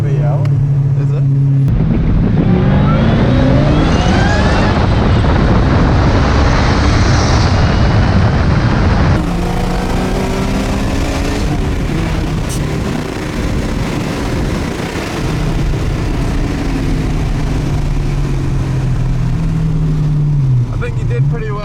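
Turbocharged Holden VL car engine at a roll racing event, a loud sustained roar with rising and falling pitch sweeps as it accelerates through gears, near and dominant, with speech faintly underneath.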